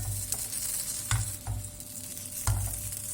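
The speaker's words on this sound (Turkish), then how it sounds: "Şimdi üzerine tereyağı kızartacağız." Butter and oil sizzle steadily in a pan, with a few scraping stirs and clinks of a utensil against the pan.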